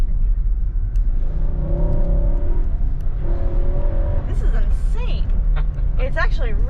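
Low, rumbling engine of a 2021 Nissan Armada pulling hard in second gear in manual mode, a steady loud drone with rising tones underneath excited voices talking and whooping over it.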